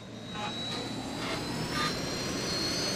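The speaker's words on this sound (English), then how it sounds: "Cutest plane in the world." A small airplane's engine in the Just Cause video game drones steadily and fairly quietly, a continuous whine and rush with no distinct breaks, and no voices.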